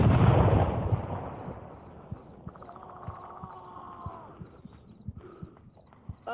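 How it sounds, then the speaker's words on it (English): Grenade explosions in the VR shooter Onward: one loud, booming blast up close that decays away, followed by scattered softer thumps and knocks. "We got blown up by grenades."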